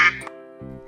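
A single short, nasal duck quack rings out near and clear, followed by a fainter, softer second honk after a brief pause.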